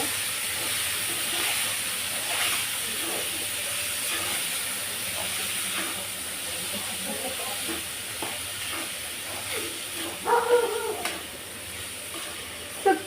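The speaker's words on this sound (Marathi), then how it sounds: "आता हे सगळं आपण वाटाणे बटाटा आणि सोयाबीन घेतलेलं आहे ते घालून घेतलेलं आता याला परतून घेते जरा" Peas, potatoes and soybeans sauté in a hot pan for pulao, a continuous close sizzling hiss with occasional stirring scrapes near the end.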